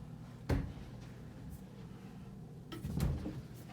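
Hotel room armoire at the Luxor Las Vegas with two wooden thumps, one sharp knock early and a second fuller clunk near the end as the cabinet door is handled, quiet room tone between.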